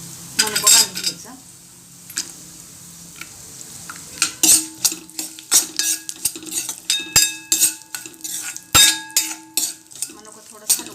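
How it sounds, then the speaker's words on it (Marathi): Raisins stirred in a metal pan with a spoon while they fry for a modak dish, giving irregular scraping and sharp clinks of utensil on metal over a soft sizzle, with brief quiet gaps between strokes. "मनुका थोडं हलवून घ्यायचं यामध्ये टाकून. 2 मिनिटं हलवून घ्यायचं मनुका."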